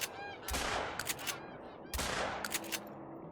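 Two sharp .22 rifle shots crack out about a second and a half apart in the Call of the Wild hunting game, each one loud and close, with a brief echoing tail and goose calls in the background.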